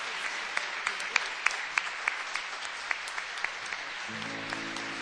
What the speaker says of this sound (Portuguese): Vamos dar uma salva de palmas para o nosso pastor?